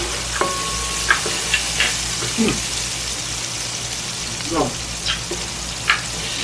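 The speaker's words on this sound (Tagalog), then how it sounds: "ihaluan nila hanggang maluto yung kamatis" Tomatoes sizzle in a pan while being stirred for a Filipino sarciado fish dish, a steady frying hiss broken by scattered scrapes and clinks of the utensil.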